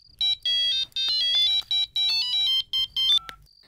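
A phone ringtone plays alone, a rapid run of bright electronic melodic beeps in short bursts for about three seconds before the phone is answered.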